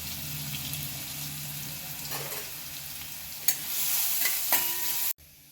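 Garlic and green chili sizzle and fry with cumin in a pan, a steady crackling hiss with a few stirring scrapes before it cuts off abruptly near the end.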